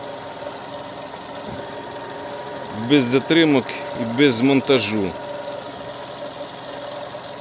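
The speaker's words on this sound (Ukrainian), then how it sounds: "Ось робота двигуна." A 2008 Skoda Octavia A5 1.6 MPI petrol engine idles steadily throughout at a low, even hum, with a voice talking briefly over it in the middle.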